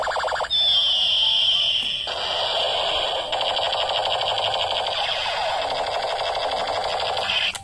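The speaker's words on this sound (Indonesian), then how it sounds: "Ini tembakan lampu juga nih teman." Toy light-up AK-47 style guns fire electronic shooting effects, a loud steady stream of rapid buzzing bursts with a warbling siren-like tone running over them, continuous and close throughout.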